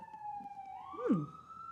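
A police siren sweeps through the background, its wail rising and falling briefly amid steady traffic hum.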